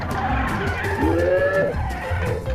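A Hot Wheels RC shark car drives over loose dirt, its small motor whining and rising in pitch while tyres scrabble and skid, close and fairly loud, with faint background voices.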